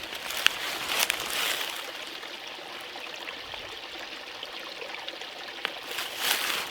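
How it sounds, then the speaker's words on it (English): Creek water trickles and splashes as a rangefinder is rinsed off in it, a soft, steady flow with a few brief sharper splashes. "Let's go down to the creek."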